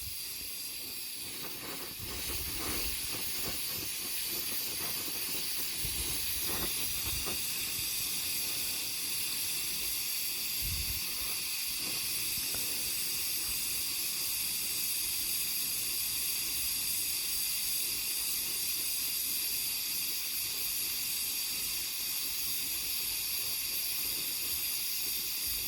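An oxy-propane torch kit hisses in a steady, continuous rush, with faint clicks and knocks in the first seconds before the hiss settles and carries on unbroken.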